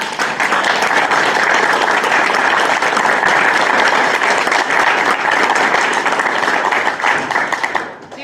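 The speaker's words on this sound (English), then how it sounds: "Let's give a round of applause." An audience claps for panelists at an environmental justice panel, a full, sustained round of applause that holds steady for several seconds before tapering off at the end.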